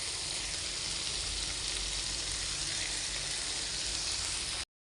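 Curry leaves with crushed shallots and garlic fry in hot oil, a steady, bright sizzle that crackles evenly throughout before cutting off abruptly near the end, with no talking.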